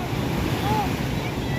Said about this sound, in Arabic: لا الموج عالي قوي